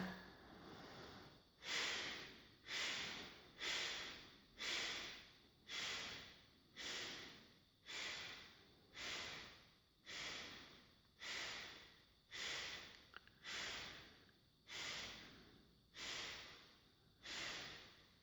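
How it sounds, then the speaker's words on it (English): Kapalabhati, the skull shining yoga breath: a steady run of about fourteen sharp, forceful nasal exhalations, roughly one per second, each a close breathy snort with brief quiet gaps between, and no talking. "coming into the next round here of our Kapalabhati, or skull shining breath"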